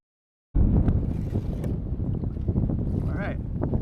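A kayak paddles through choppy water toward a beach landing: wind buffeting the microphone over splashing and sloshing water, with thumps of the hull and paddle, loud and close, and a brief voice in the mix.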